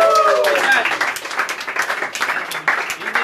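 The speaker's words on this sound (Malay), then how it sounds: "sila beri tepukan kepada senior kita" A short burst of applause from a small group of students, steady and close, lasting a few seconds.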